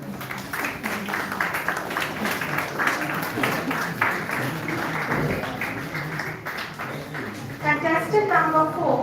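Steady applause from an audience greeting student contestants at an event, a dense wash of claps mixed with voices, swelling a little louder toward the end.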